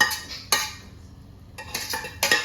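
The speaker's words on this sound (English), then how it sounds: "we're going to throw this over in this bowl to rest" Fried catfish tipped from a pan into a bowl: a few sharp metallic clanks and scrapes of utensil against cookware, close and fairly loud, with short pauses between.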